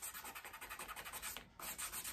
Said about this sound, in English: my goal when I'm sanding this little area